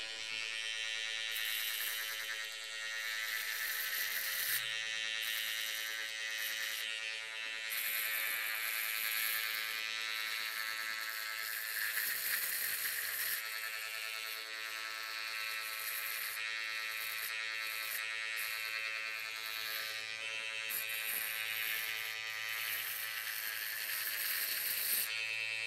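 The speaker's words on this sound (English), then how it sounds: "So you have to go slow, let the clipper work." A hair clipper cuts a high bald fade in a close, steady electric buzz that runs unbroken throughout, with small shifts in tone as the blade moves over the head and no talking.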